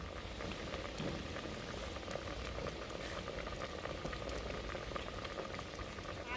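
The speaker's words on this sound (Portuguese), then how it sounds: "Vou deixar esse vinho evaporar." Wine simmering in a risotto pan, a soft steady bubbling and crackle that carries on evenly and quietly throughout.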